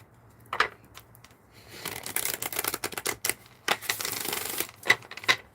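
Spirit Message Oracle card deck being shuffled, with irregular bursts of riffling and flicking cards interspersed with sharp taps and quiet pauses, close and fairly clear with no talking.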